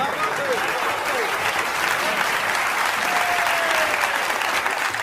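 An audience at a Hindi comedy poetry gathering claps loudly and continuously, a dense unbroken wash of applause from a close crowd.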